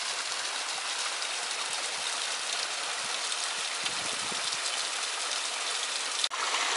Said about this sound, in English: Just off to the side of the trail, a nice little set of cascades